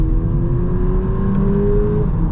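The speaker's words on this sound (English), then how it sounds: "Real exhaust pipes, real tailpipes, making some real little burbles" A 2025 VW Polo GTI facelift's engine and exhaust build in a steady, loud rising drone, heard close from inside the car as it accelerates with no talking over it.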